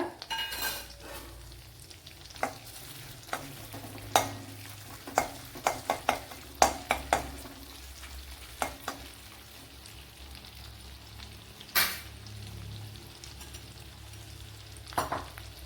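Chopped green chilli, ginger and garlic fry softly in ghee, with a steady low sizzle broken by repeated sharp clinks and scrapes of a utensil stirring the pan.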